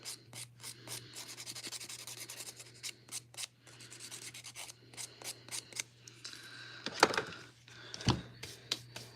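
A nail buffer is rubbed lightly over a surface in quick, close, repeated strokes, each giving a soft, dry brushing swish over a faint steady hum.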